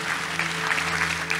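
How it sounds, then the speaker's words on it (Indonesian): A church congregation at a Sunday service claps together briefly and fairly softly, a steady wash of applause over a low sustained hum in the room. "sama-sama kita boleh kasih tepuk tangan buat kebaikan Tuhan."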